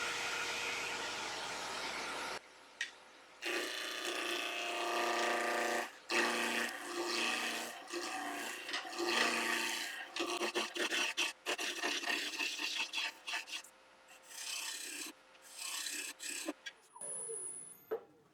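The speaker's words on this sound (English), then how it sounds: "I'm just going to use a little 1-inch spindle, rough and gouge. So I'm turning at about 1400 RPM." A woodturning lathe spins a spindle blank at about 1400 RPM while a 1-inch spindle roughing gouge cuts it for a spatula, producing loud, close rasping bursts that start and stop in uneven stretches, with brief quiet gaps between cuts.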